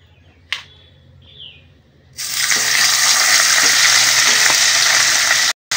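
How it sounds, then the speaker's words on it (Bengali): Two fish heads dropped into hot oil in a kadai burst into a loud, steady sizzle after a brief quiet start with a clink, the frying hiss holding strong to the end. "আমি এবারে মাছের মাথা দুটো ভেজে নেব"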